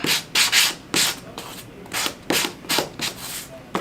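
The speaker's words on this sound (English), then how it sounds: "I'm just using a sander. Any sander will work." Electric sander run in short repeated bursts across the edges of wooden craft pieces for a lightly distressed finish, a close, rasping scrub that rises and fades in about ten strokes with brief pauses between them.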